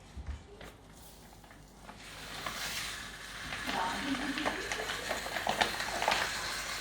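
Rösti goes into hot oil in a pan: quiet at first, then a steady frying sizzle builds and stays close and continuous for several seconds, with faint voice sounds in the background.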